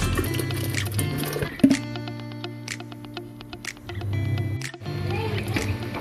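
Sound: cut potatoes added into boiling water

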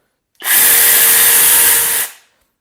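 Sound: cordless chainsaw with 8 Ah batteries running

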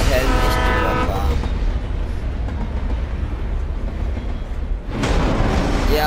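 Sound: trains crossing a railway bridge in video game Alan Wake

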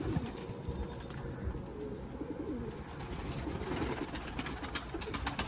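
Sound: young Arabian cicibaş pigeon cooing

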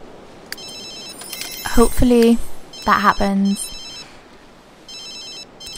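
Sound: phone ringing in The Sims 3 video game

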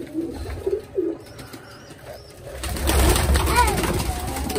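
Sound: pigeons cooing in a pigeon loft

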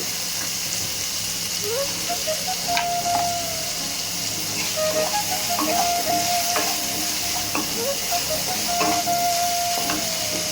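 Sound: tomatoes added to a hot pan, sizzling

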